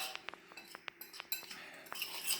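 A spice blend stirred in a bowl, with a spoon tapping and clinking against the sides in quick, irregular light chinks, quiet and close, with no voices.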